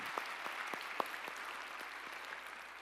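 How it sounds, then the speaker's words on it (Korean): A church congregation gives scattered, fairly faint claps during a Sunday service, a handful of distinct hand claps spaced irregularly over a quiet room background. "우리 찬양을 받으실 주님께 영광의 박수 올리시겠습니다"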